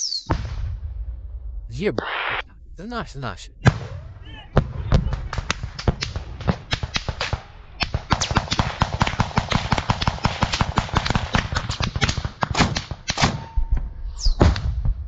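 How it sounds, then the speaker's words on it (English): Trench combat between Ukrainian and Russian troops: dense, rapid bursts of gunfire mixed with heavy grenade launcher thumps and blasts, nearly continuous and close, with voices heard among the shooting. "The Ukrainians are trying to drive them out with grenade launchers. Bullets are flying everywhere."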